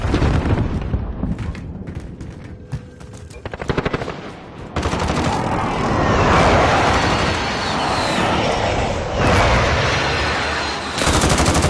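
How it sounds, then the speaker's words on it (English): Cluster bomb airstrike in Call of Duty Warzone: a dense, continuous barrage of rapid explosions and rattling detonations that swells loud after a few seconds and rolls on steadily, with no talk. "I'm gonna hit him with cluster bombs"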